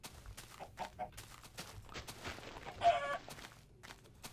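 Chickens clucking in the blocky survival game Minecraft Beta, a few soft, scattered clucks with the sharpest one near the end, set against faint in-game ambience and no talk.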